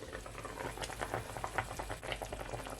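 Braised beef short ribs simmer in a pot, giving soft, irregular bubbling and popping at low volume.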